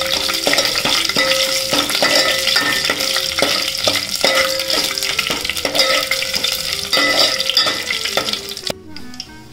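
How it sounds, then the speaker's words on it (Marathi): Whole spices tossed into hot ghee in a pot while being stirred, a loud continuous sizzle broken by repeated rhythmic scrapes of a spoon against the metal, cutting off abruptly just before the end. "आता हे सगळे फोडणीचे मसाले टाकायचे।"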